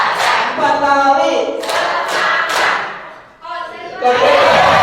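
A group of students in a classroom claps together on cue in short synchronized bursts, a few sharp rounds spaced apart, with voices talking between and over them.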